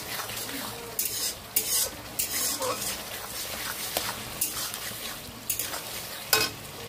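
Turmeric being stirred into food frying in a pan, with repeated scraping and clinking of a utensil against the pan over a continuous sizzle, close and moderately loud.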